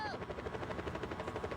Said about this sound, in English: No, it's a utility chopper.